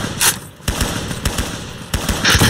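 Gunfire in the Roblox game Ace of Spades, with repeated sharp shots and short bursts cracking at irregular intervals across the clip, fairly loud and close.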